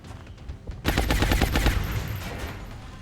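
Gunfire in XCOM: Long War, a sudden loud burst of rapid automatic shots that rattles for about a second, then trails off into a fading echo.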